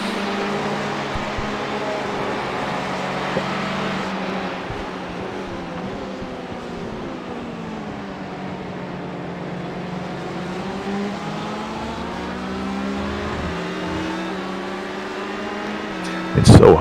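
Engine note of an LMP prototype race car during the Daytona 12 Hours, a sustained droning whine whose pitch sweeps down and back up as it passes through the infield section, heard over continuous commentary talk, with a brief loud burst at the very end.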